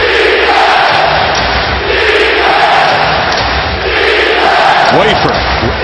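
A basketball arena crowd at an NBA playoff game between the Rockets and Blazers in Portland roars steadily and loudly throughout, with a commentator's voice over the cheering.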